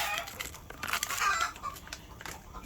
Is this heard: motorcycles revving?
no